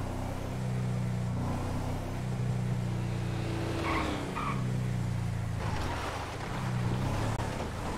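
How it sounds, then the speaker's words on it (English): Off-road truck driven across rough terrain in a video game, a steady engine drone that rises and falls with changes in revs over a constant rushing background. "Test the off-road capabilities of this here truck."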